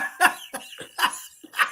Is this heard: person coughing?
yes